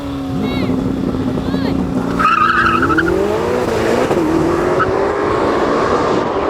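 A Lamborghini Temerario and a Ferrari SF90 launching side by side in a drag race, engines rising loudly through gears with a brief tyre squeal, while someone talks excitedly over the roar.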